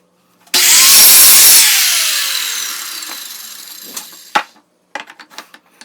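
A power saw spins up and cuts through recycled pallet wood for the legs of a small bench, loud and whining before winding down, followed by a few knocks and clatters as the piece is handled.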